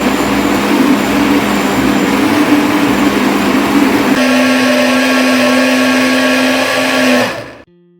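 Blender whirring loudly and steadily as it blends boiled oats with mixed nuts and almonds, the motor tone shifting higher partway through before cutting off abruptly near the end.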